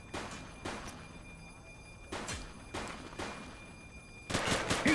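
Gunfire in a police shootout in the video game The Precinct: sharp bursts of shots crack out at irregular intervals, several separate volleys, and the heaviest, densest burst comes at the end.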